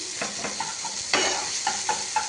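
Food being stirred in a pan while it cooks, with a steady sizzle underneath and repeated scraping strokes of a spoon against the pan, close and clear with no voices.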